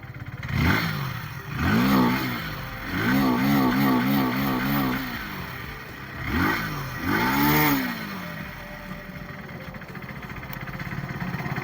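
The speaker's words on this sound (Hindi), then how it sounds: "अभी जो हम इसका इंजन नॉइस सुन रहे हैं तो बहुत क्लियर साउंड इसका आ रहा है" A Hero Splendor Plus motorcycle idles in neutral with a deep, throbbing exhaust note, swelling in a few surges before settling into a steady low rumble.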